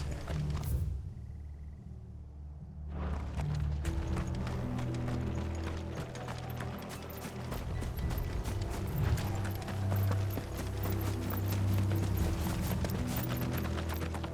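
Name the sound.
horse hooves clip-clopping, from a video game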